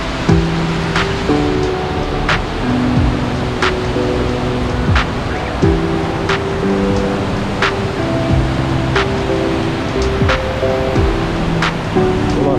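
Rushing water at the Sait Abat waterfall in Kestel, Bursa, a steady broadband roar heard continuously from nearby, with occasional sharp clicks and tonal hums from traffic or machinery mixed in.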